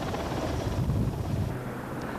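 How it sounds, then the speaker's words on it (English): A rescue helicopter hovers low above a lifeboat at sea, its rotors producing a steady, loud roaring wash with churning low rumble and no speech. "A classic piece of teamwork as the rotors scream, causing heavy sea wash, holding the machine above the lifeboat."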